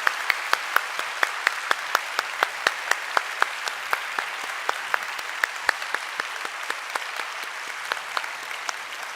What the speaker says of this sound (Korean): 다시 한번 우리 박수로 감사드립니다